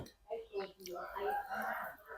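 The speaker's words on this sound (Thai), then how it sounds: "ไก่อ่ะ" A chicken or rooster calls in short rising bursts and clucks nearby on a rural homestead, with some human voice mixed in.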